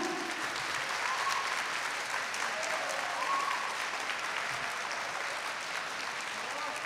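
A live audience at a Top 8 kendama versus street dance and freestyle basketball battle applauds to vote for the 01HEADS kendama team, steady sustained clapping from a crowd throughout.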